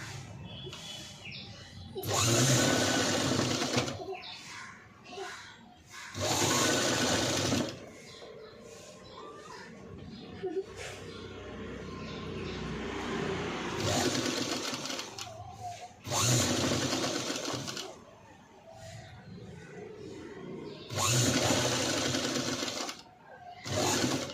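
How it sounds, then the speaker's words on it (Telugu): A sewing machine stitches a padded blouse in loud repeated bursts of several seconds each, with quieter handling sounds and low background noise between the runs. "ఇలా నీట్గా మనం స్టిచ్ వేసుకోవాలి. అలాగే ఇటు సైడ్ కూడా నీట్గా ఎక్కించుకోవాలి."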